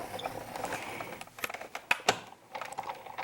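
A Sizzix die-cutting machine cranked through fabric layered with a die and cutting pads, giving faint scratchy mechanical clicks and a few sharper ticks over a few seconds.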